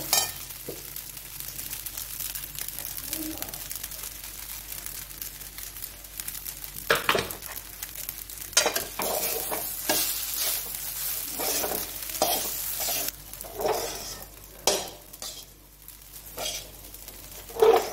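Polao rice fries with ginger-cumin paste in a pan, a continuous sizzle broken by repeated scraping stirs and brief crackling bursts, close and fairly loud throughout.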